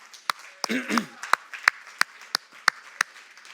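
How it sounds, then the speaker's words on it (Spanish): Sparse, evenly spaced handclaps ring out in a church worship service, a few distinct claps in a steady rhythm, with a brief burst of voices near the start. "Dale un aplauso al Señor."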